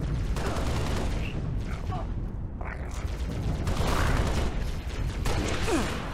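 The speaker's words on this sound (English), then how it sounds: "Firing on target." Video game gunfire crackles in dense bursts and volleys through a loud, continuous mix of explosions and mechanical noise, with a few brief thumps standing out over the steady din.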